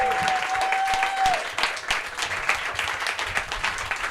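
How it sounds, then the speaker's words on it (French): A comedy show audience bursts into loud, sustained applause and clapping, with a brief tone at the start. "un maximum de bruit pour Michael Gouin!"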